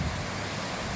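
Strong northeast wind roars against the microphone with waves washing in on a Lake Ontario pier at the mouth of Oak Orchard Creek, Point Breeze, a dense, steady rush filling the brief moment.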